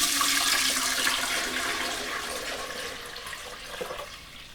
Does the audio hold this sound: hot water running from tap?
yes